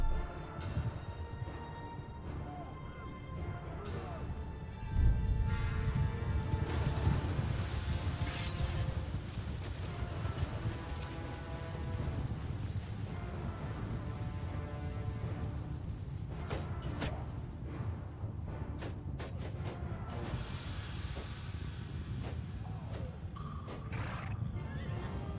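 Cavalry horses in the Bannerlord battle game, repeated loud whinnies and neighs over a dense rumble of hooves and battle din that builds through the charge, with no clear talking.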